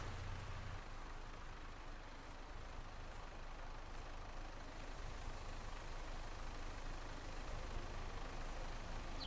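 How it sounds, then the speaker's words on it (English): Cars in Red Dead 2 drive around loudly as a steady, dense engine rumble and road roar that fills the whole stretch without a break, with no talking. "People driving around their loud cars."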